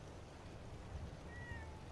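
In the Fallout 4 video game, a cat gives a short thin meow over steady low ambient background noise, heard alone with no talk.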